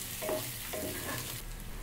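Chopped tomatoes frying with salt, turmeric and cumin powder for khichuri, a close sizzle broken by a few spatula scrapes and stirs, no talking.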